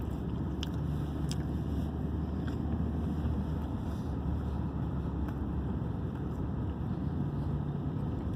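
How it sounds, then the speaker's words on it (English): A snow blower runs outdoors during a winter storm in St Lawrence County, northern New York, giving a steady, unbroken engine drone mixed with wind buffeting and a few faint clicks. "yeah, it's snow blower."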